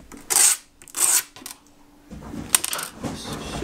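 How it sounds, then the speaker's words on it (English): Sandpaper rubs a burr off the top edge of a metal port on a Hope bicycle hub, heard as two short, close scratchy strokes followed by quieter fiddly handling noises. "Just going to take a little bit of sandpaper"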